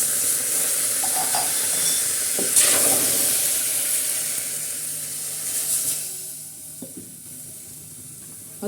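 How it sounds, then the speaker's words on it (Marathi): Chicken cooking in a pan with black masala for a spicy Maharashtrian curry, loud sizzling with repeated scraping stirs that fades noticeably toward the end, no voices. "तर आता चला आपण चिकन शिजायला टाकत आहो"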